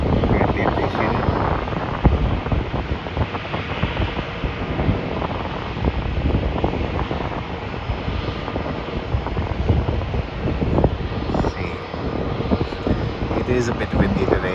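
A loud, continuous roar of a Jetstar passenger jet engine at Melbourne airport mixed with gusty wind noise, sustained throughout without pause.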